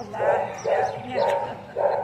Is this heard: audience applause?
no